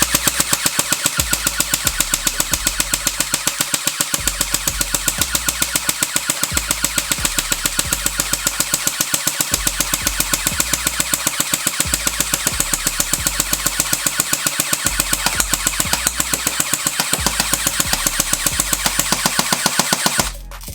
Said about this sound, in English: I'm just going to fire off a few more shots